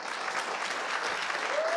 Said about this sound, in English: when you all feel like clapping, clap loudly, yaar.